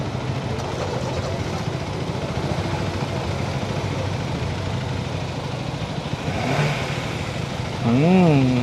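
A Benelli 600i motorcycle on a Sunday beach ride hums with a steady engine drone, then gives a short louder rev with rising and falling pitch near the end.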